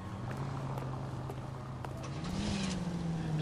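Car engine from the video game L.A. Noire droning steadily throughout, a low continuous hum that rises slightly in pitch toward the end, with faint background game noise.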